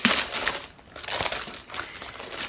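Cellophane wrapping around a book subscription box crinkles and rustles in several close, bursty handfuls as it is pulled open.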